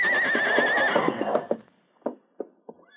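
Horses whinny in a shed as a radio drama effect: a long, loud, quavering neigh gives way to clip-clopping hooves, then several sharp, separate knocks or stamps.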